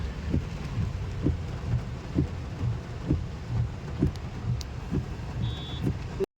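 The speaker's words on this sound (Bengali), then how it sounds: "আর ঝমঝম করে বৃষ্টি পড়ছে একভাবে" Heavy rain pours steadily onto a street while a vehicle waits at a traffic signal. A constant hiss sits under regular low thumps that repeat about every second.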